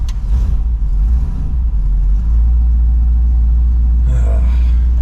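Old wagon car engine running on stale fuel, a loud, steady low rumble close by with a few uneven revs.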